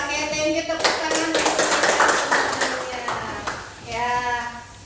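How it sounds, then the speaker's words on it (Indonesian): Classroom applause: a group of students claps in a dense burst for a few seconds, fading out, with a teacher's voice speaking just before and after. "Oke, thank you, tepuk tangan."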